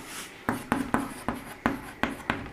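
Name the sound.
writing on a board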